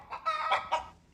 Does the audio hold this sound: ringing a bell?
no